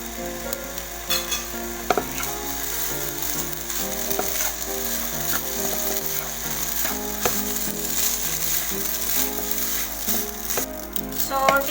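Beef salpicao with a little reserved sauce stirred in a hot pan, a steady sizzle and frying hiss running throughout with scraping stir strokes and occasional clinks, while background music plays beneath.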